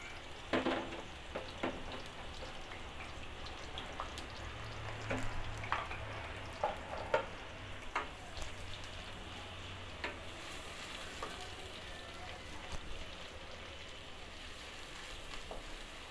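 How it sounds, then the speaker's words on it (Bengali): Chopped onions fry in hot oil, giving a faint, steady sizzle with occasional soft pops and stirring scrapes throughout, low in level and without talk. "আমার তেলটা গরম হয়ে আসছে, এখন আমি পেঁয়াজগুলো কুচিগুলো দিয়ে দিব।"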